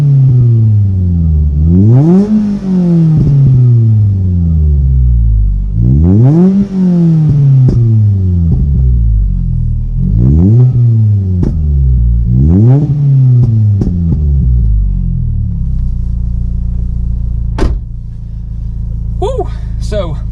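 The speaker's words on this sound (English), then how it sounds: "Now I'm going to see if I can get it closer to the exhaust and what we're going to pick up." Car fitted with a loud Milltek Evo2 sports exhaust, manifold and sports cat, revved hard in four repeated rising-and-falling bursts close to the tailpipe, then settling to a deep idle rumble.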